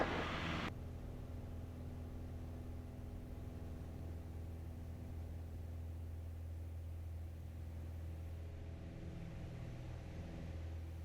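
A light aeroplane engine at full power during takeoff, a steady droning hum with strong low tones and a constant rushing noise, heard evenly from inside the cabin after a brief louder burst at the start.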